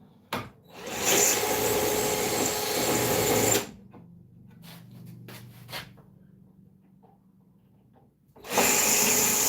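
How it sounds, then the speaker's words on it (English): A power drill drilling out screws whirs in two loud bursts, separated by quieter handling clatter and faint mechanical noise, close by. "I should have just drilled these out to begin with."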